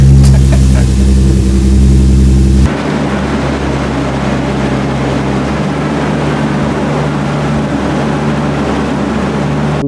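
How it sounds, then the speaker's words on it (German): A Volkswagen Golf engine runs on a dynamometer at a loud, steady idle, a harsh tonal hum that drops abruptly into a rougher, noisier rumble that continues to the end. "Das ist doch mal ein saftiger Leerlauf."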